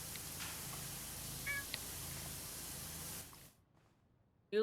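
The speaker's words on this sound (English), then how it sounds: "Oh, I hear a cat." A cat meows a couple of times inside the horror video game Grim Grove, short faint calls over a steady hissing ambience that cuts to near silence before a sudden loud burst at the end.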